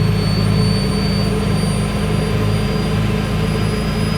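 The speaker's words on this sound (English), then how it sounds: "You can tell by the pitch of the motor as it comes up." Jet turbine engine of the 1959 GM Firebird III bubble-top concept car spooling up during startup, a loud close steady roar with high whining tones, alone without talk.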